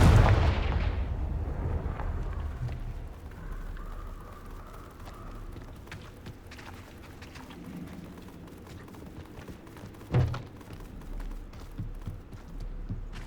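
A Confringo fire-blast spell in Hogwarts Legacy bursts with a loud blast at the start, its rumble fading, and a second sharp explosion about ten seconds later amid low ambient noise.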